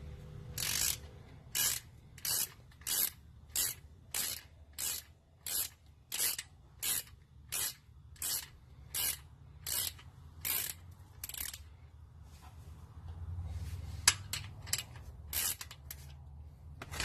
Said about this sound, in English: First thing I'm going to do is loosen this 15mm bolt and drain the oil into this pan